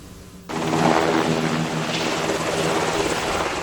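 A Black Hawk military helicopter's rotor and engine kick in suddenly and hold a loud, steady whirring drone, close by and unbroken.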